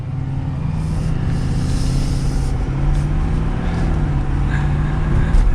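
A 2022 Ford Super Duty F-350 Platinum FX4 pickup accelerates up to traffic speed, a steady loud engine drone and road rumble heard from the cabin, rising slightly in pitch with no talk.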